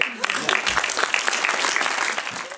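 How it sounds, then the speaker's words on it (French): Audience members at a film screening and meet-up applaud in a short, dense burst of clapping that lasts a few seconds, with voices mixed in. "Je pense qu'il faut qu'on applaudisse JP"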